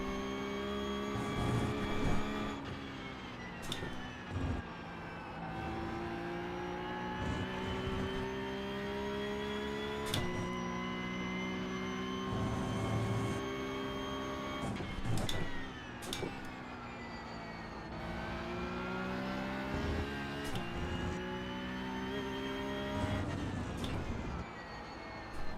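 Race car engine in a racing video game, revving up and down through gear shifts with sharp rises and drops in pitch, a continuous moderately loud whine with occasional bursts, no talking.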